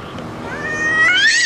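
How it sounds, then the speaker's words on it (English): A real cat gives one loud, close, drawn-out meow that rises in pitch toward the end, heard outdoors at a child's birthday gathering. "Yeah, that's a kitty."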